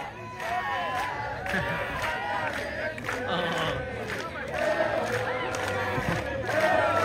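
Pattani football supporters cheer and shout together after their team's win, a dense, continuous crowd roar with overlapping voices and chants that stays loud throughout and swells slightly toward the end.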